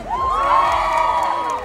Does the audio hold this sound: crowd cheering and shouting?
yes